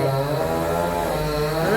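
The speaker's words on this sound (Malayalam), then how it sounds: "ഓ മരം മുറിഞ്ഞു" A chainsaw cuts down a tree, giving a loud, sustained engine drone nearby that holds steady and rises slightly in pitch at the end, with no speech.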